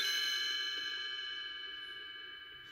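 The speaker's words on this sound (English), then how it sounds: "you will know it is time to turn the page when you hear the chimes ring like this" A single bright page-turn chime from a read-along book record rings out and slowly fades, its clear tones sustaining alone in a quiet room.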